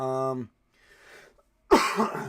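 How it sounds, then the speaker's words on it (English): Someone coughs while recovering from being sick. A short voiced sound is followed by a pause, then one loud, harsh cough burst close to the microphone. "I'm coughing a lot of stuff up"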